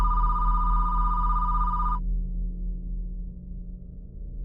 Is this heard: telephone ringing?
yes